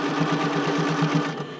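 Sewing machine stitching bra cups for a classic bra, a steady rapid mechanical whir with even needle pulses running throughout, close and alone, easing slightly at the very end.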